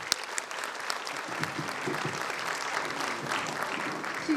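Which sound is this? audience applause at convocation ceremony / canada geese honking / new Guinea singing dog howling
audience applause at convocation ceremony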